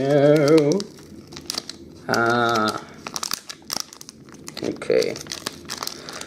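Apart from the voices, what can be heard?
tearing open a Pokemon card booster pack wrapper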